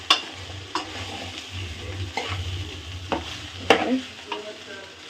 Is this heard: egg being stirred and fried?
yes